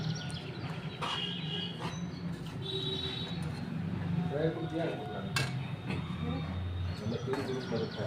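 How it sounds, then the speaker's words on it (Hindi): A jaggery mixture is stirred continuously in a metal kadhai, and a spoon clinks and scrapes against the wok close by. The stirring runs under ongoing conversation, with faint bird chirps in the background. "अब इसको लगातार चलाते हुए हमें मिला लेना है जब तक ये क्रीमी टाइप का नहीं हो जाए और कढ़ाई छोड़ने न लगे तब तक।"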